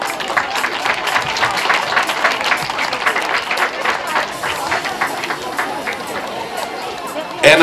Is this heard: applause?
yes